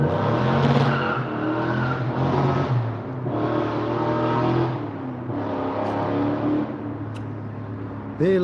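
Cars revving and accelerating on a neighborhood street on a weekend, with tire squeal and skidding, a loud continuous engine roar swelling in several waves over about eight seconds, heard close without any talk.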